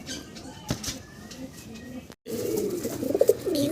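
A pet pigeon coos in short, repeated calls close by, with a brief silent gap before louder, denser cooing resumes toward the end.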